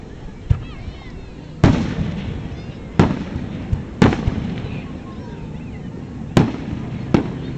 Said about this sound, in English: Beautiful fireworks.